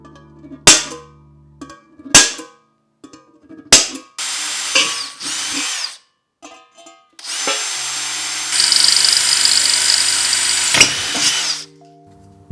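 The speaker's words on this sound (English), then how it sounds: "take a hole punch, and start marking out a whole bunch of holes to drill out" A power drill bores holes into a bowl being made into a DIY fruit press, in several short bursts at first, then longer sustained runs of whirring, close and loud with brief pauses between.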